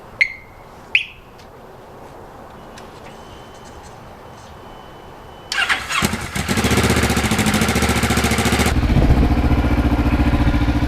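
A 2009 Kawasaki Ninja 650R, restored, gives two short beeps from its starting electronics, then a quiet pause before the engine cranks and fires, settling into a loud, steady idle close by.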